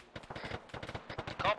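Gunfire in the Arma 3 video game during a military simulation operation, a rapid burst of automatic shots with a voice speaking over the firing.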